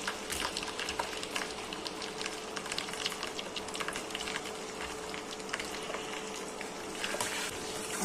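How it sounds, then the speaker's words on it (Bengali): Chopped onions sizzle in hot oil, with a steady, fairly quiet crackle and scattered sharp pops throughout and no voices. "পেঁয়াজগুলো গরম তেলে ছেড়ে দিচ্ছি"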